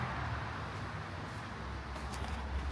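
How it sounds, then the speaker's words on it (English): Distant highway traffic carries across a big, deep front yard as a steady, low broadband rumble that holds evenly throughout with no single vehicle standing out. "You can hear the highway from here for sure."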